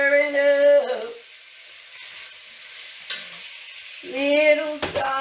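Curry chicken with marinade and basil sizzles softly in a pan while being stirred, with a few scraping knocks, and a person talks at the start and end.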